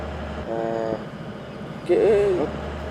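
In a Kerala bus driving game, two short bus horn blasts: a flat honk, then a louder wavering toot, over a steady engine drone.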